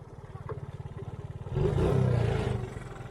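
A 1986 Honda TRX 70 ATV engine puttering at a steady idle with rapid regular pulses, then revving up louder for about a second before settling back down, close by.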